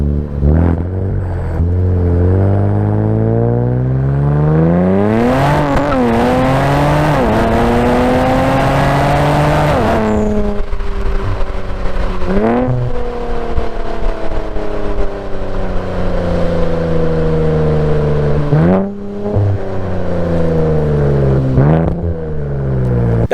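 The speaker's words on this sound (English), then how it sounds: "I have a Fast Intentions catback exhaust. It's the unresonated version. It sounds great. By the way, here's a sound clip." An Infiniti Q50/Q60 with AMS downpipes and an unresonated Fast Intentions catback exhaust revs loudly and repeatedly, engine pitch climbing and dropping through several hard pulls and gear changes, close to the microphone with no talk.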